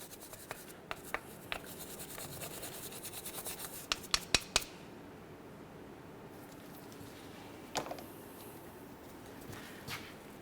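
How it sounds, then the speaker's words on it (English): A brass wire brush scrubs rust off a brake caliper bracket on a 2004-2010 Chevrolet Cobalt front hub job, giving a steady, close rasping scrape with a few sharp clicks and taps partway through. "I like to use a nice brass brush, and I'm just going to go ahead and clean this down"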